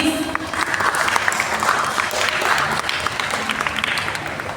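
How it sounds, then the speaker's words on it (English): An audience at a Prahlad festival gathering claps for a boy, dense sustained applause from many hands, close and loud, with a few voices mixed in. "Yes, clap for that boy."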